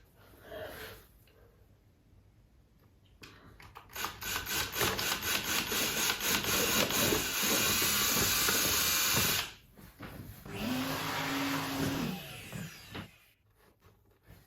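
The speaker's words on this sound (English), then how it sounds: "starting to drill holes in my layout to put these trees in" A power drill bores holes into a model train layout, whirring loudly and grinding for several seconds at a time in two close bursts, with a short pitch swing between them and quiet pauses before and after.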